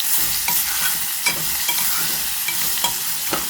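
Tempered ivy gourd (tindora) stirred in a hot pan, a steady sizzle of frying broken by several sharp scraping clicks from the spoon against the metal, close and fairly loud with no voices.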